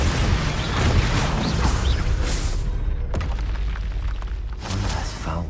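A Bombarda spell explosion from Hogwarts Legacy booms loud and broad, a sustained blast of rumbling crashes filling the scene with a sharper impact partway through.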